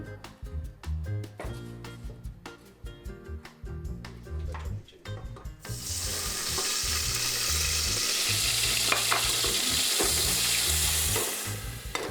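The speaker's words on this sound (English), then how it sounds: "starts by frying her sofrito of celery, carrot and onion" Chopped celery, carrot and onion sizzle in a pan for a sofrito, light clicks and stirring at first, then a loud, steady frying hiss after the vegetables hit the hot oil.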